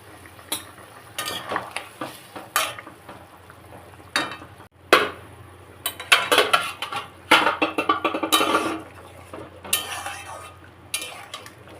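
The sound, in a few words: hilsa fish curry with potato and green banana cooking in pan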